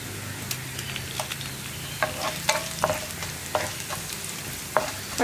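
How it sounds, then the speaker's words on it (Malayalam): Four dried red chillies frying with onions in hot oil for sambar, a soft continuous sizzle broken by a scatter of crisp pops and spatula scrapes, fairly quiet and without speech. "ഇനി ഞാനൊരു നാല് വറ്റൽമുളക് ചേർക്കുന്നുണ്ട്."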